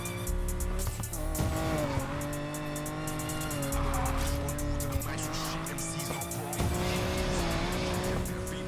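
A car drifting in Need for Speed: Payback, a loud revving engine with sustained tire squeal that rises and falls through the turns, someone talking over it and music in the mix.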